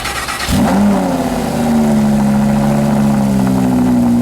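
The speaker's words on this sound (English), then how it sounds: "Let's start the car up." A sports car engine cranks and catches, revs briefly, then settles into a steady idle with a deep, even hum, close and loud.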